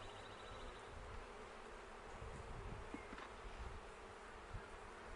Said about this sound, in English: Get them down onto the frames.